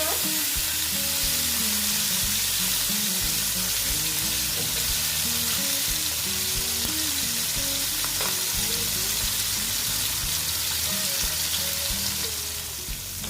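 Koi fish frying crisp in oil in a pan, a steady loud sizzle running throughout with occasional stirring and scraping sounds, no talking.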